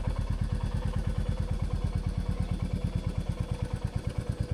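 A Royal Enfield Bullet motorcycle engine idles on its own, its steady, rapid thump-thump pulse repeating evenly and loudly up close with a mechanical clatter and no voices.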